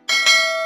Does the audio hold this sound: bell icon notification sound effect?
yes